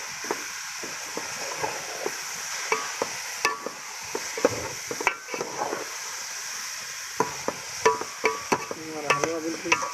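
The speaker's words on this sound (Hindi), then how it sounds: "डालने के बाद हम इसको अच्छे तरीके से मिक्स करेंगे।" Carrot halwa with raisins stirred in a pan, a spoon scraping and clinking in irregular strokes over a soft, steady sizzle, close and fairly quiet, with no voices.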